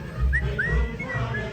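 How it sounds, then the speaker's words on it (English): A plant at Magic Kingdom lets out thin whistling chirps, several short rising tones spaced across a second or so, under a low murmur of background noise. "and it's whistling."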